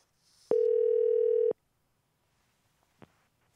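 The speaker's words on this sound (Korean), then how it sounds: "전화를 한번 걸어보도록 하겠습니다." A telephone dial tone while placing a call: one steady, loud tone holds for about a second and cuts off abruptly, followed by a faint click in the quiet.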